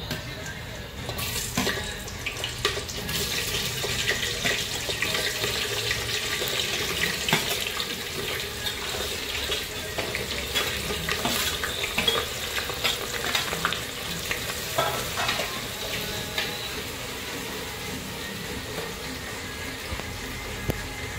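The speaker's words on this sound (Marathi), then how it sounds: "कांदा सर्व भाजून घेऊ व्यवस्थित" Chopped onions fry and sizzle steadily in a pan for Maharashtrian haldi-style dal mundi, with a constant hissing wash and occasional scraping stirs throughout, close and fairly loud.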